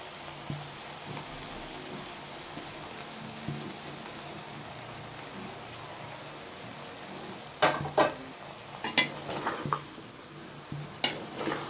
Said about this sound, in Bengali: লাউ আছে দিয়ে দেব